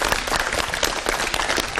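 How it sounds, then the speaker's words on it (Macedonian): Applause from an audience at a school event, dense rapid clapping from many hands, loud and close, lasting under two seconds. "Аплауз за Мија."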